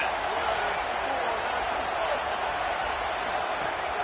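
Football stadium crowd roaring for the defense on a big third down, a steady dense wall of cheering and noise throughout with a commentator talking over it.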